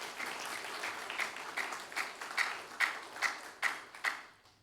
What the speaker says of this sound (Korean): 우리 한번 축하의 박수 드리겠습니다.